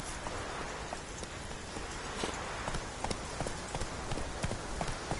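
Hooves of Roach, the horse in The Witcher 3, clip-clop at a steady walking rhythm, close and moderately loud over a constant hiss of wind or rain.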